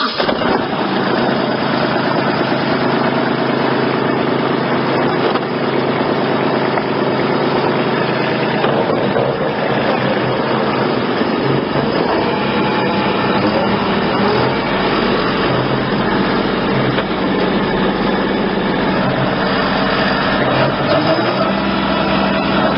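A mower engine drones loudly and steadily while it cuts the grass between rows of Christmas trees on a farm in Bristol, PA. The engine holds a constant idling-like hum throughout, with no voices.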